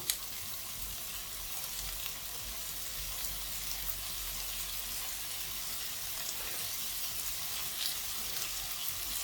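Potatoes frying in oil for a green peas potato curry, a faint, even hiss of sizzling with light stirring textures and no voices.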